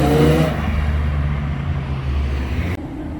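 A Gran Turismo S sports car engine at a track, a steady loud low-pitched drone with a rising rev in the opening half-second, sustained and near, then cut off abruptly near the end.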